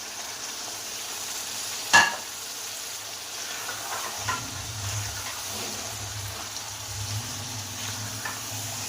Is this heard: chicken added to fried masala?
yes